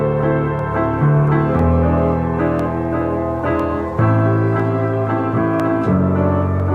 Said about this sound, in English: Altogether, the pianos sound like this.